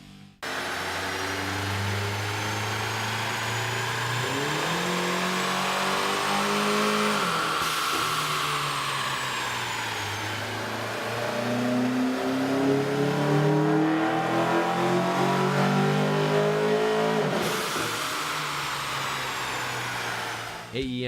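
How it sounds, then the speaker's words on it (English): A Ford Focus 2.0L engine with an AEM air intake revs on a dyno, climbing steadily in pitch with a couple of resets before rising again. Its intake roar is loud, close and continuous throughout. "Here's a comparison of the Focus sound on the dyno with the stock OEM system versus"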